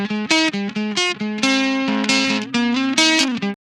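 Electric guitar run through an Opalize harmonics plugin, playing a bright, rich-toned riff of short plucked notes followed by sustained chords, loud and clean without distortion, no voices.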